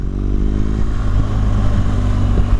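A 2017 BMW R1200 GS Adventure with a boxer engine is on the move, its low throbbing engine note loud and close, briefly dropping in pitch early on and then holding steady, with no talk.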